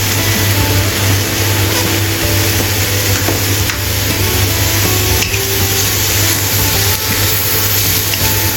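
Mushrooms frying in a pan for a vegan rice cooker mushroom rice, a steady close sizzle with occasional stirring scrapes throughout, no talking.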